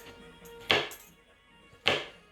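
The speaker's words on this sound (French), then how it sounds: "il faut couper grossièrement parce que une fois que c'est cuit, ça rapetit" A knife roughly chops summer vegetables for a couscous salad, two sharp, fairly close thuds on the board about a second apart, with faint handling sounds between them.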